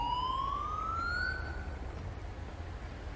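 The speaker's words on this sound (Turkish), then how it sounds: "Ambulans da geldi." A single rising ambulance siren wail in GTA 5 sweeps upward over a low rumbling background, then fades, moderately distant.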